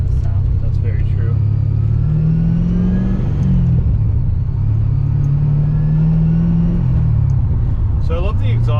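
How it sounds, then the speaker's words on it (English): Supercharged Pontiac GTO engine and exhaust rumbling low and steady with a faint rising whine from the supercharger, swelling and easing twice as it revs, close by, with people talking over it. "you get to hear like the supercharger sounds"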